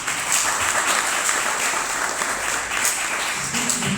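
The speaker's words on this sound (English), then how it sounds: "Can we just give her a round of applause?" Audience giving a round of applause at a community gathering of cultural workers, dense and loud sustained clapping from many hands, close and continuous with no talk.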